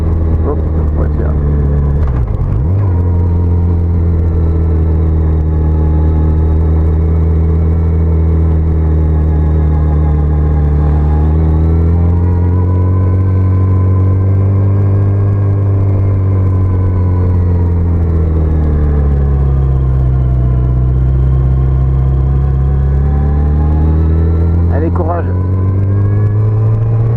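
A Yamaha FJR 1300 motorcycle of about 150 horsepower at riding speed: a loud, steady engine drone with a deep rumble, rising and falling slightly as the throttle changes, mixed with wind noise across the whole ride.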